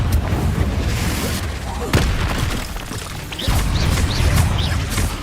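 A Confringo blast spell explodes in Hogwarts Legacy, with loud, close booms and crashing impacts over dense combat noise. Voices are heard in the fray.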